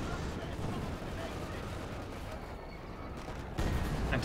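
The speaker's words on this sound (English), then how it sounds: "Cromwell shoots, misses" A Cromwell tank's gun and other battle fire in Company of Heroes 2, a dense, muffled rumble of artillery-like booms and gunfire under a commentator's voice, with a louder burst near the end.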